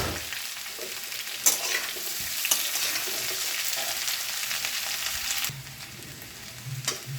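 Onions and long-sliced green chilies fry in a pan with a steady close sizzle, broken by a few clinking stirs, the hiss dropping quieter after a stir near the end.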